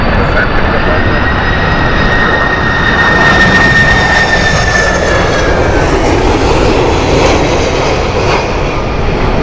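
A Boeing 767-400 jet roars at Heathrow on a windy morning, loud and close with a rising engine whine that fades slightly as it passes.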